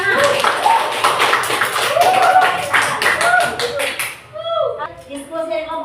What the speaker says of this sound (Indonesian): Kemudian ini tepuk tangan